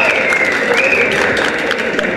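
Loud applause from an audience at a talent contest's elimination round greets a performer called to the stage, a dense steady clapping wash with crowd noise and a tonal sound like music or cheering beneath it.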